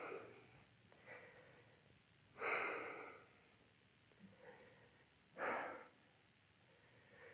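Heavy breathing while recovering after a kettlebell set, two strong forceful exhales that rise and fade roughly three seconds apart, with softer breaths between, close and fairly quiet.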